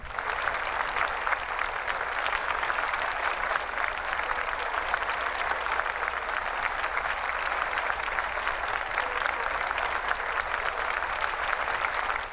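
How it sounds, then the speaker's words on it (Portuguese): Congregation at a church Bible study in Rome applauds continuously and evenly throughout, a dense, sustained clapping from many hands with no pauses. "Os aplausos para o Senhor."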